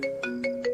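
An electronic phone ringtone plays alone, four short repeating tonal bursts in quick succession with a steady underlying tone, clear and close.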